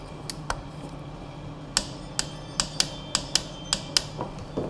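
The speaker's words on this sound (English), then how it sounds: "we've got our torque wrench set to 40 Newton meters" Sharp ratcheting clicks ring out from a torque wrench tightening the oil filter bolt on a motorcycle, set to 40 newton meters; about a dozen close, crisp ticks arrive in an uneven rhythm over a low background hum.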